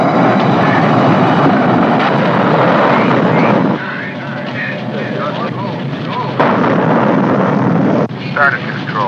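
A rocket lifting off in a staged launch, its broad roaring rumble loud and steady for several seconds, then easing slightly with shifting tonal swirls as the engine noise carries on continuously.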